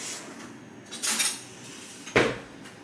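A spoon clinks and scrapes against a bowl of spicy instant noodles in a few separate strikes, close and fairly quiet, with soft handling noise between.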